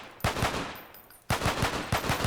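Semi-automatic gunfire in the video game CW 2.0, two quick bursts of three or four sharp shots each, separated by a short pause.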